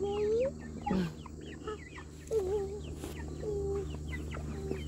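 Chickens clucking around a backyard chicken coop, a steady run of short clucks and calls near the listener, with a faint voice briefly heard in the background.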